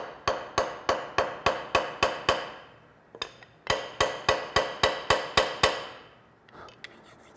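Sharp hammer blows peening a pin end into a mushroom head on a wooden cam clamp, two bursts of about eight evenly spaced strikes with a short pause between, close and loud.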